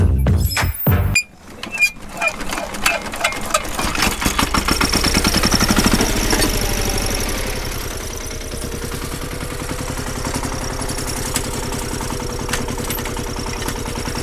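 A walk-behind tractor fitted with a turbine plows soil. Its engine runs loud and close throughout, with sharp crackling bursts at the start, then settles into a steady, rough mid-pitched drone.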